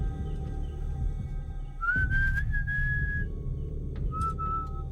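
A person whistles a few sustained, slightly rising notes, then a shorter one, over a low steady engine hum.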